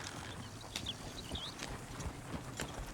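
Horse hooves clip-clop in a rhythmic walk in Red Dead Redemption 2, soft and fairly close over quiet ambient game sound, with a few sharper hoof strikes.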